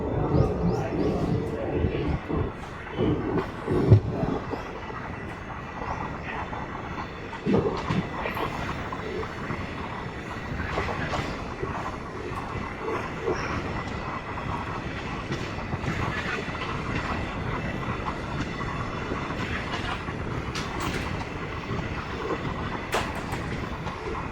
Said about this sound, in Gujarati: તો હવે લુસાડાથી ટ્રેન નીકળી ગઈ છે